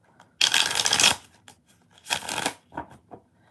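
Tarot cards shuffled by hand in two bursts, a long dense riffle followed by a shorter one, with a few soft card taps trailing off near the close.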